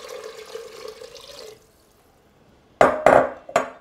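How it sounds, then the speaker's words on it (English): Water is poured into an Instant Pot, a soft steady flow lasting a second and a half, then silence, then a few sharp metallic clunks and knocks. "I'm gonna add in 5 cups of water"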